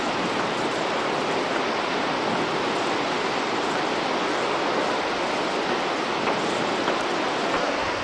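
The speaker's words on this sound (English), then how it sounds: "View of the American Falls" The American Falls at Niagara roar as a dense, steady wash of falling water, loud and unbroken with no voices.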